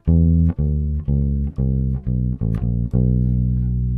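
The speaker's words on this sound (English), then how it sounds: "the whole phrase should sound like this." Solo electric bass plucks a bluesy walking phrase of about eight notes, steady and clear, closing on a sustained low note that rings out.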